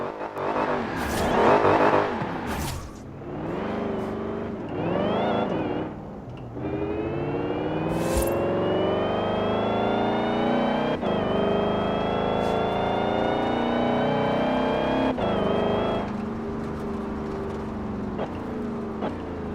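A car in Forza Horizon 4 revs loudly, its engine note sweeping upward through several gear changes, each marked by a sharp break in pitch. The engine holds a sustained, droning tone after some earlier bursts of noise.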